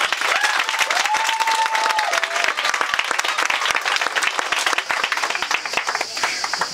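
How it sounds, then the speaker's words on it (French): Wedding guests burst into sustained, dense applause for the bride's best friend and witness at the reception. A brief tonal whistle or cheer rises over the clapping early on, and the applause stays loud and steady throughout. "Veuillez s'il vous plaît applaudir."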